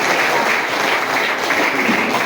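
A crowd of party workers claps loudly and continuously at a Jharkhand Mukti Morcha workers' meeting in Noamundi, a dense, steady burst of applause with no break.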